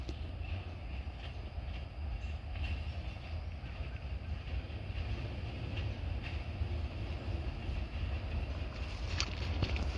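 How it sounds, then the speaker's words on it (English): A switcher locomotive approaches on a main line with a clear signal northbound, a steady low rumble of engine and rolling wheels that stays distant but constant, with faint wind. "And here's our train coming at us."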